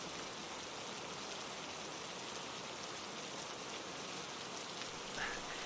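Steady rain falling on a roof, a dense even hiss that holds unchanged from start to finish with no voices.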